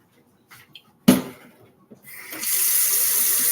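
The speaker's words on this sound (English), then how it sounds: "y'all will hear the water for a minute" Hot water runs from a kitchen tap into a sink, starting after a few small clatters and a sharp knock, then settling into a steady, close hiss of flowing water for the last second or so.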